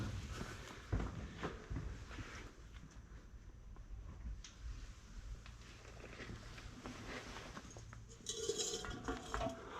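An old cooking pot and washing bowl are handled inside a disused tram tunnel air raid shelter, giving faint metallic clinks and scrapes among shuffling footsteps.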